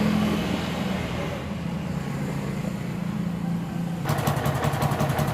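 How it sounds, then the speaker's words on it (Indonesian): A Yamaha MX motorcycle with an ignition fault idles in a workshop, a steady low engine rumble heard close up that turns rougher and more rattly in its last second. "Kita akan tes langsam dulu atau geberkan dulu ya teman-teman."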